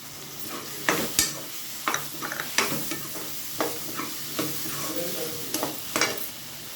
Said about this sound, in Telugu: ఇప్పుడు దోసకాయలు వేస్తున్నానండి.